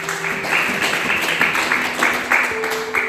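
A church congregation claps together in a steady, rhythmic beat, loud and close, with voices mixed in under the applause.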